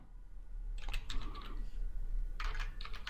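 Two short bursts of computer keyboard typing while code is entered, quick close key clicks over a low steady background hum.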